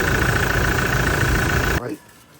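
A car engine idles to warm up ahead of an oil change, a loud steady rumble that cuts off abruptly near the end, leaving a quieter tail.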